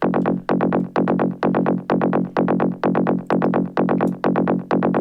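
Synth1 bass patch run through a full plugin chain in an Ableton Live trance template, playing a steady repeating pattern of punchy pulsing notes with a sidechain-style swell, loud and alone with no voices.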